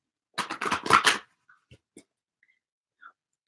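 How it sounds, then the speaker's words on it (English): Tarot cards are shuffled close up in a quiet room: a short burst of rapid riffling and shuffling, followed by a few soft isolated taps and rustles. "I'm told shuffle one more time."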